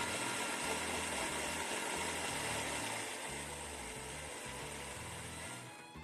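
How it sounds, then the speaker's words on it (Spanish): An electric blender whirs steadily as it purées tomato sauce, a dense, constant motor drone that fades slightly toward the end. "Ahora solo nos queda licuar."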